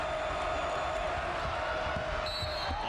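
A packed crowd of about 13,000 at a basketball game in Hinkle Fieldhouse applauds and cheers in a dense, steady roar that fills the arena, with faint commentary beneath.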